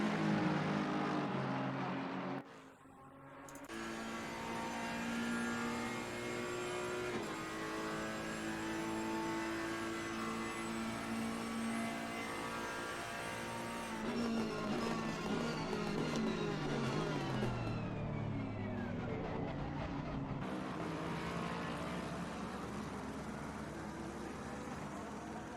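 GT race cars, a Ferrari and an Aston Martin, in the racing game Assetto Corsa Competizione, roar steadily throughout with rising and falling engine pitch as they accelerate and shift, a dense continuous drone with no talk.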